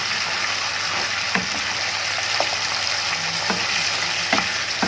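Liver frying Alexandrian style in a Tefal nonstick pan sizzles steadily and loudly close up, with soft scraping clicks of a spoon stirring it every second or so.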